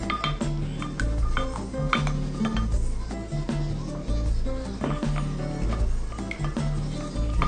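Thick ketchup-based sauce for pulled pork being stirred in a bowl, a steady run of scraping and clinking of a utensil against the bowl's sides, close and fairly loud, with low kitchen hum underneath.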